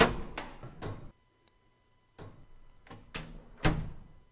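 Metal door sound in Second Life: a series of sharp, clanking impacts in two groups separated by a short silence, loud and close, with no talk.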